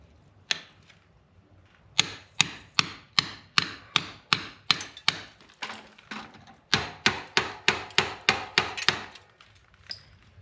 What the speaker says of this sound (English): the hand chisel is nice for making a straight line and doing precise cuts